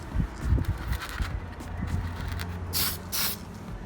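Tamiya TS07 Racing White spray paint hisses from an aerosol can onto a Tau Ghostkeel miniature, with two short, bright bursts near the end over a background of handling noise.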